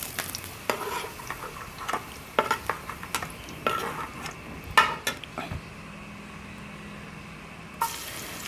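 Carrots fry in hot oil in a pan for chicken curry, a steady sizzle under repeated sharp scrapes and knocks of a utensil stirring against the pan.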